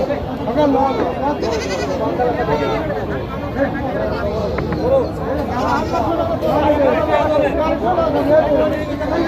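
Several goats bleat repeatedly, nearby and overlapping, at a goat market while people chatter in the background throughout.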